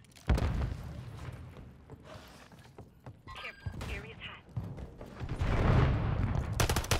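Game combat with a blast and gunfire in a zombie-infected Skid Row: a sharp boom near the start, then scattered shots and mechanical clatter, rising to a loud, dense barrage toward the end, with some speech mixed in.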